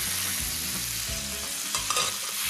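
Frozen peas frying with soft shallots, chili and garlic in a pan, a steady bright sizzle with faint stirring scrapes, close and continuous with no voices.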